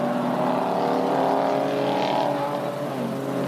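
GT4 race cars lapping the Shanghai circuit, a continuous loud engine drone with shifting pitch as the cars weave across the track, no voices over it.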